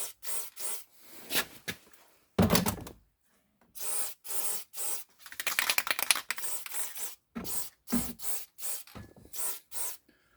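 Graphite coating is sprayed onto antique exhaust manifolds in short, close hissing bursts separated by brief pauses, with one longer spray in the middle.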